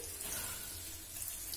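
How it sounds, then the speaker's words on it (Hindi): Water runs from a tap and splashes softly over moong dal and rice in a bowl, a quiet steady rinse with no voices. "अब इसको हम धो लेंगे अच्छी तरीके से पानी डाल करके"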